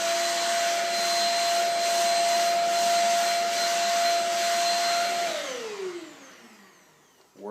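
A Shark Rocket vacuum cleaner with the brush attachment on runs with a loud, steady high-pitched whine and airflow rush, then powers down, its tone sliding downward as the motor spins to a stop, followed by a brief knock.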